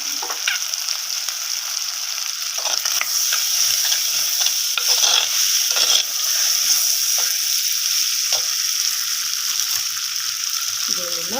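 A prawn and potato curry fries briskly in a pan, giving a loud, steady sizzling hiss with intermittent scrapes and stirring clinks throughout.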